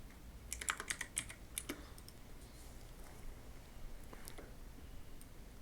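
Quick bursts of typing on a computer keyboard sound close and fairly faint, followed by a pause and a few more key clicks.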